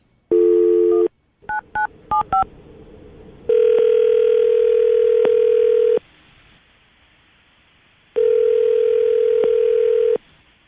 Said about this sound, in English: I'm going to call him right now, see if we can get him to answer his phone